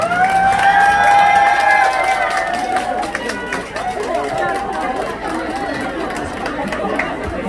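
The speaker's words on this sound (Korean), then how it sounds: "저 함성이 너무 작은 것 같아요" A crowd cheering and shouting together at a fan signing event in an underground shopping arcade, loud at first and then settling into a busy mix of voices and chatter.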